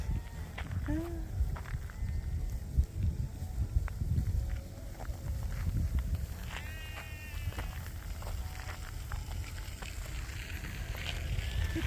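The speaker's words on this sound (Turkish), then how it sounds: "Bunlar koyun hepsi." Sheep, including black sheep, bleat a few times at a distance on a farm in Germany over steady outdoor rumble, with footsteps shuffling nearby.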